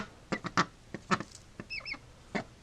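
A female duck gives short, raspy courting calls in a close, irregular series of quacks, plus a brief higher two-note call, heard indoors at a duck rescue.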